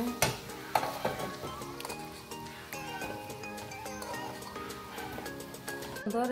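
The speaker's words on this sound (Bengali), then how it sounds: "উল্টে পাল্টে লাল করে আর কি ভেজে নিলাম" Egg-and-flour pitha frying in a pan, a steady close sizzle with clinks and scrapes of a utensil turning the pieces, over background music.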